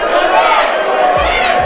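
A wrestling event crowd roaring and cheering in a dense, loud, continuous wash of many voices filling the whole stretch.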